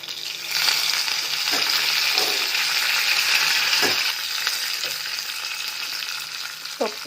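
Washed curry leaves hit hot oil with mustard seeds and garlic for a gooseberry dal tempering, bursting into a loud spitting sizzle that settles into a steady fry with occasional stirring knocks.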